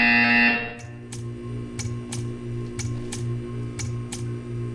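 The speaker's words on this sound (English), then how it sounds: "You will hear a buzzer. When you hear the buzzer, stare at the art." Regular buzzer pulses from the Portal 2 video game sound roughly once a second after a brief louder tone at the start, steady and even over a low background hum.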